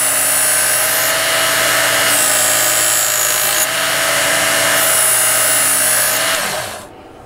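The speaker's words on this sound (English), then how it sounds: "We're gonna fire it up and just do a couple passes on each side" A Work Sharp belt knife sharpener runs with a continuous close, high-pitched motor whine and grinding hiss as a blade is drawn through in passes, then spins down at the end.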